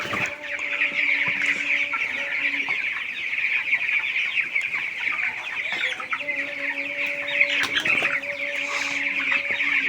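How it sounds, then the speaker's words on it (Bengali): Chickens on a poultry farm in intense summer heat cluck continuously at close range, a dense overlapping flock chorus with occasional louder calls and no talking. "মুরগিগুলো উঠে তারপর খাবার খাবে এবং পানি খাবে"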